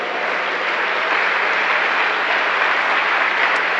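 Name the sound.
church congregation applause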